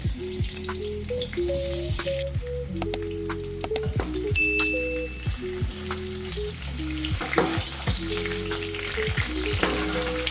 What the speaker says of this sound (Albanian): Vaji është nxehur dhe hedhim patate që t'i skuqen pak.